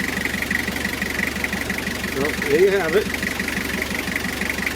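Toyota Hiace engine idling after repair, a steady, close rhythmic rumble with a slight knock, running continuously while someone speaks briefly over it.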